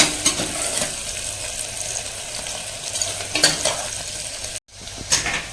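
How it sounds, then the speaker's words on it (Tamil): Onions sauté in a pan for a beetroot biryani, with a steady close sizzle broken by scraping stirs from a spoon against the metal and a brief pause near the end. "ஆனியன் நல்லா வதங்கினதுக்கப்புறம் பார்த்துக்கலாம் வாங்க."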